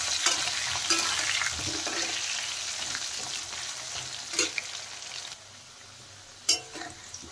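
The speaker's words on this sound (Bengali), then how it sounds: "নুন হলুদ দিয়ে আলুটা ভালো করে ভেজে নেব" Potatoes with salt and turmeric frying in oil in a pan, a continuous crackling sizzle with occasional sharp clinks and scrapes of stirring.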